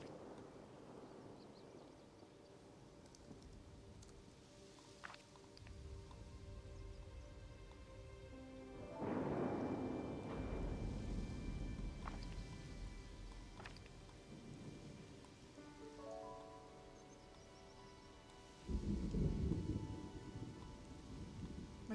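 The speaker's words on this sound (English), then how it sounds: "God, I thought that thunder sound was real." Rain and rumbling thunder in the Disney Dreamlight Valley video game, steady soft rainfall with several deep thunder rolls swelling and fading over time, heard alone without voices.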